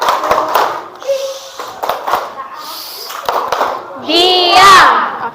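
A school class performs a rhythmic clapping chant, sharp hand claps interleaved with children's chanted voices, ending in a loud swell of young voices together.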